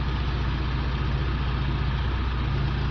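A Mitsubishi Strada Triton engine held at 2,000 RPM hums as a loud, steady low rumble, unchanging and close throughout.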